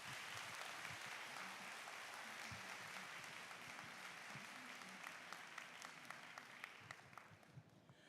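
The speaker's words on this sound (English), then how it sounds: "Ladies and gentlemen, another round of applause for our performers." Sustained applause from a large audience for performers at the opening of a Hong Kong fintech conference, even and fairly distant clapping that thins slightly toward the end.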